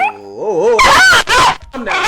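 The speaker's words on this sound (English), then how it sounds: "I just want y'all to see what a real dog's supposed to look like" A guard dog gives a high, wavering whimper, then lets out a few loud, close barks in quick bursts with short gaps between them.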